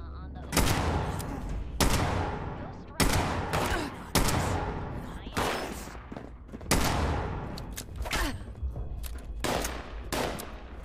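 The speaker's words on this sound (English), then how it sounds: "Yeah, grenade. You blew up your own dudes, dude." Grenade explosions and heavy gunfire in the video game Fallout 76, a series of sharp loud blasts every second or two with crackling debris and rumbling tails between them, close and dense.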